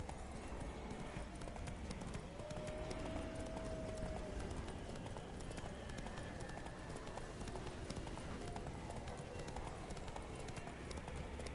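Roach, Geralt's horse in Witcher 3, gallops with steady clip-clop hoofbeats under a constant wash of game ambience, a brief tonal whine drifting through early on.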